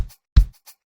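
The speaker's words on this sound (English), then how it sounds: "So the conga from P2J pack" Three short hand-drum hits, the middle one a deep, punchy conga slap, with softer taps around it, dry and isolated.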